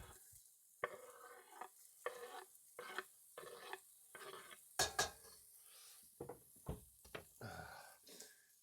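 Shallot and garlic being stirred in a pan, with repeated scraping and clinking of a utensil against the cookware in short bursts over a quiet background.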